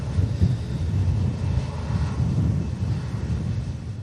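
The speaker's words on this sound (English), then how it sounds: "Do have an EasyJet about to enter the approach," EasyJet airliner inbound from Rovaniemi on landing approach to Manchester Airport during a storm, its steady low engine roar sustained and fairly loud throughout, mixed with rumbling wind.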